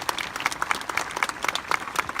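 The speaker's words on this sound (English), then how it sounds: "So just one more round of applause for them," A crowd at a rally claps for the speakers who just spoke, a brisk, fairly close round of applause with dense, uneven claps sustained for a couple of seconds.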